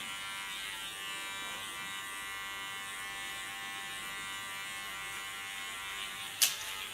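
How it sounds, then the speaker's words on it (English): An electric hair clipper buzzes steadily at the back of a head while cutting hair, a constant close whine that ends with a short sharp scrape near the end. "put my clipper to the back"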